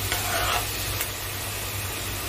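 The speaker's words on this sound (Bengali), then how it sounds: "এবার এগুলোকে আমি ভালো করে কষিয়ে নেব" Coriander, cumin and sugar mixed with water sizzle in a pan while being sautéed and stirred for duck egg malai curry, a steady close hiss with light scraping.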